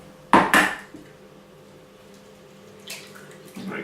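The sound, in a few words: raw egg being cracked into a bowl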